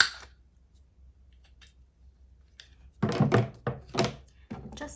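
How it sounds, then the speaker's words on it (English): A corner rounder punch cuts the corner of a paper pocket for a Christmas folio, giving a cluster of close, crisp clunks and snips after a quiet pause. "Actually, I'm gonna corner round"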